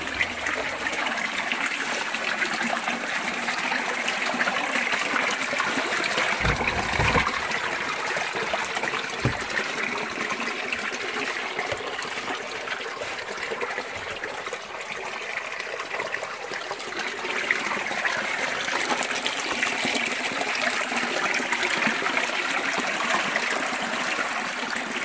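River water trickles and babbles steadily inside the Wakinambor cave, a continuous close wash of flowing water with a couple of dull low thumps early on, no talking.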